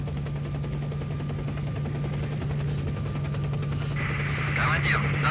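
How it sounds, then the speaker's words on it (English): A helicopter in S.T.A.L.K.E.R.: Shadow of Chernobyl gives a steady, droning rotor hum with a low tonal whine, joined by brief chatter near the end. "Got our helicopter."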